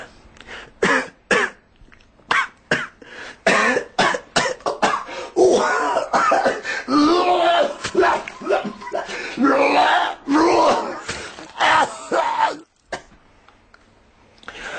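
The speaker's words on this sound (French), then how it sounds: "le fumeur tousse un peu" A male smoker coughs harshly and repeatedly in rough, hacking bursts, close and loud, with some throat clearing, before trailing off into quiet.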